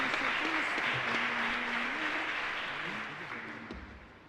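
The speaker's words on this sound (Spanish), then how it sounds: "un aplauso para ustedes también" Applause from a congregation at a Catholic Mass in a parish church, a faint broad wash of clapping that slowly fades, with a voice speaking over it.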